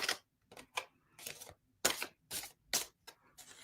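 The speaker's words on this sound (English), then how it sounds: "I'm shuffling very badly." Tarot cards being shuffled by hand, a run of quick papery riffles and slaps in uneven bursts with short pauses between, close and fairly quiet.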